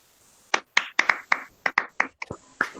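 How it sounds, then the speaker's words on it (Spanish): Applause at a diploma of merit ceremony, about a dozen sharp, distinct hand claps in an uneven rhythm, close and fairly loud in a quiet room. "Un aplauso."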